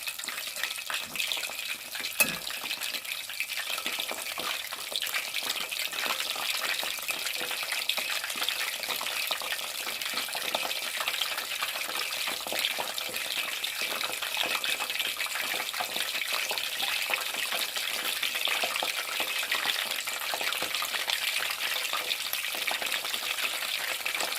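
Egg-coated homemade Kenyan-style mini kebabs fry in a pan, giving off a steady, dense sizzle and crackle that holds evenly throughout with no talking.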